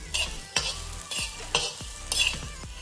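Stuffed brinjal sautéing in a pan with no onion, garlic or ginger, spatula strokes scraping and stirring in four or five distinct swipes over a steady sizzle, close and fairly loud.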